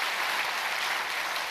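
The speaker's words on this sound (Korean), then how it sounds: "이런 귀한 참여한 분들을 위해서 좀 박수 한번 보내주시면 좋을 것 같은데요." Church congregation applauding during a Sunday worship service, a brief, even wash of many hands clapping together at moderate volume with no voices over it.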